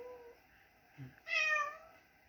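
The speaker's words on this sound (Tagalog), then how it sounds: "Yun lang ang miyaw mo." A kitten meows once, a drawn-out, fairly loud cry after a brief softer sound, in an otherwise quiet bedroom.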